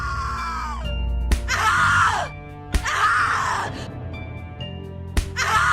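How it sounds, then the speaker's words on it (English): A woman screams repeatedly in The Cat Lady video game, three long anguished bursts broken by sharp impacts and short gaps, loud and close over a low droning background. "Scream louder, little bitch! Scream your lungs out!"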